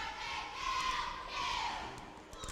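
A crowd in a high school gym cheers at a basketball senior night, a sustained roar of voices that swells twice, heard from a distance with no commentary over it.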